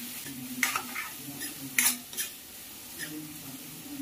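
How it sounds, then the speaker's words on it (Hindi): Cumin, asafoetida and chopped onions fry in hot oil for a bitter gourd sabzi, a soft close sizzle broken by a few sharp spatula scrapes and taps against the pan, with no voices. "तेल गरम हो गया, अब इसमें डालेंगे हम थोड़ा सा जीरा, थोड़ी सी हींग डालेंगे, प्याज कटे हुए"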